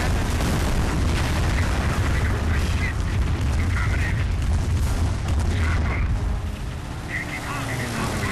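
Heavy artillery booms and explosions rumble continuously through a Company of Heroes skirmish battle against the AI, loud and dense, with a voice speaking over the gunfire.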